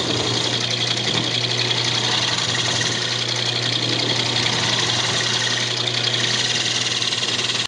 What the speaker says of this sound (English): Then I'm just going to take a flat scraper and cut a recess back here